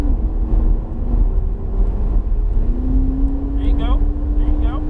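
A McLaren 570S sports car drives on the Talladega track, its engine droning steadily with rising pitch as the throttle comes back on, while an instructor talks over it throughout.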